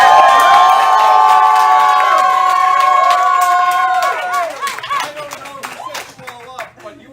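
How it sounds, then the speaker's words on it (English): A crowd gathered outside a studio cheers, whoops and claps loudly, a dense roar at first that thins into scattered applause and shouts toward the end. "special thank you to the people who decided to come out and cheer us on outside of the studio."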